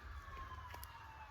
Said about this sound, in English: and that is the ambulance.